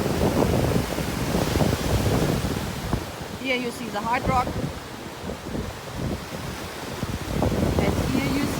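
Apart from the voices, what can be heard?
ocean waves on a Punta Cana beach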